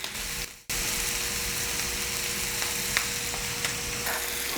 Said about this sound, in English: let them just go ahead and get that beautiful sear on there